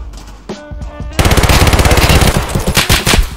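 Sustained rapid automatic gunfire in an online shooter game, a loud close burst of dense repeating shots following a few quieter single shots.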